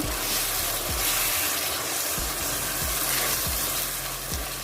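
A chicken and okra masala with garlic-ginger paste frying in a pan, a continuous sizzle with periodic low scraping strokes of a spoon mixing it close by.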